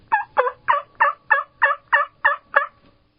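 A person imitating a wild turkey hen call, a run of nine evenly spaced yelping notes, close and clear with nothing else heard alongside.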